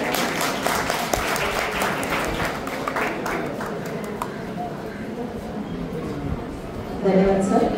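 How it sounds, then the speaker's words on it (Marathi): An audience at a formal welcome ceremony breaks into sustained clapping, a dense crackle of many hands that gradually thins out, with a speaking voice coming in toward the end. "जोरदार टाळ्या वाजवून"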